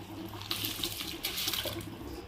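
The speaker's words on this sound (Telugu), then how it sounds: "వాటర్ బాగా బాయిల్ అవుతున్నాయి కదా" Water boils in a pot before soaked rice goes in for paneer dum biryani, a faint continuous bubbling and rushing hiss with a low hum beneath, close by and with no talk.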